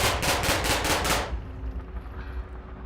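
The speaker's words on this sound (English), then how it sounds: "you can hear some gunshots coming from up ahead" Automatic gunfire in the Here We Are: Year 0 video game: a rapid burst of shots for about a second, then cutting off to a faint, quiet background.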